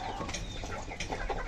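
Free-range country chickens raised on a rooftop cluck softly and steadily, several birds close by in a quiet outdoor setting.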